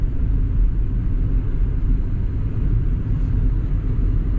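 A 2004 Ford Excursion with a 6.0 Powerstroke diesel engine drives along, giving a loud, steady low rumble and drone that fills the whole stretch without breaks.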